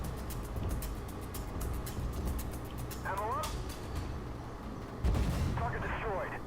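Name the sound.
tank cannon fire in Armored Warfare video game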